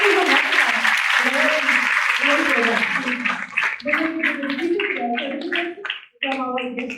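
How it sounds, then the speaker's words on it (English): An audience claps loudly and steadily for certificate recipients at a graduation ceremony, the applause thinning toward the end as voices and other sounds come through. "I think you should give them a big round of applause"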